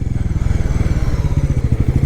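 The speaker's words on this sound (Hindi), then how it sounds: "अब बाइक मिस मार रही है मेरी।" Pulsar N160 motorcycle engine misfiring, a close, loud chugging idle with uneven rapid pulses running steadily for about two seconds.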